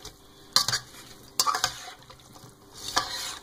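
Onion being mixed into browned, previously frozen meat in a pan: three distinct scraping stirs of a utensil against the pan over a low sizzle, close and clear, no voices.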